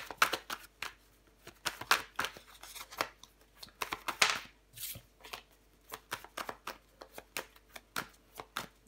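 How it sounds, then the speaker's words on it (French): Tarot cards are handled and laid out up close, with a rapid series of crisp shuffling, flicking and slapping sounds of card on card and on the table, in irregular bursts with brief pauses. "Je vais recouvrir des cartes."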